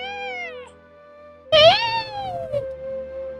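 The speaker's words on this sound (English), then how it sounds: "Kitten obediently lifted its head and let out a meow" A kitten lets out two meows: a thin, wavering cry in the first half-second, then a louder, brighter meow around the middle that trails off, with quiet room sound in between.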